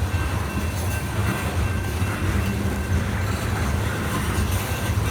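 A CSX coal train rolls past in Mount Airy, a loud, steady rumble of wheels and cars with faint clatter and a thin squeal running throughout.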